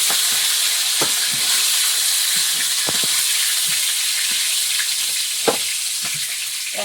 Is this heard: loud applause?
no